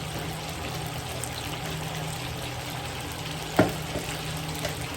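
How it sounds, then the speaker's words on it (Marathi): Rice tipped into a hot pan for chicken Schezwan fried rice, a steady sizzle and frying hiss with one sharp clatter partway through, no talking. "ते पण फिरवून झालं की लगेच त्याच्यामध्ये आपण राईस टाकूया."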